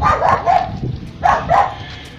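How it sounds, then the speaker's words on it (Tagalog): A dog barks a few times in two short pairs, close and fairly loud, with a somewhat muffled, yelping quality. "May aso po bang nakakawala?"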